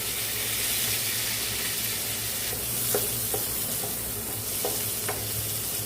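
Onion, dried red chillies, green chillies, ginger, curry leaves, cumin and mustard seeds fry in a pan for a tomato brinjal curry, a steady close hiss of sizzling oil with a few faint clicks and pops.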